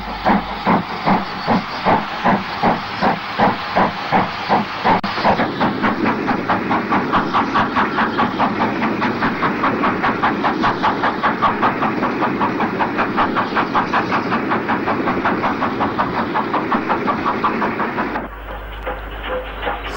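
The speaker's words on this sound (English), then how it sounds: "The downed Cambrian Coast Express departs behind 75014 on the 6th of October 1966." Steam locomotive 75014 departs with the Cambrian Coast Express, rhythmic chuffing exhausts at first, then a loud sustained hiss of steam with clattering wheels beneath, close and continuous.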